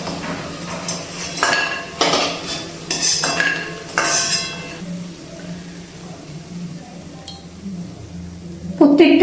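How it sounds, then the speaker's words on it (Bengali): A metal utensil clinks and scrapes against a pan as fried lentil fritters are lifted from hot oil. There are several clatters in the first half, then quieter handling, with a person talking over the sounds. "এবার তেল থেকে তুলে নিচ্ছি।"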